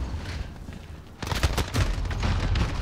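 Rapid automatic gunfire in a Modern Warfare multiplayer match, with a quieter stretch that gives way to dense, loud bursts of shots filling the rest of the moment.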